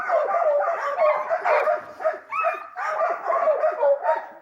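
Sled dogs bark, yip and whine together in an excited, continuous chorus at close range, with sharp overlapping barks and brief higher yelps throughout.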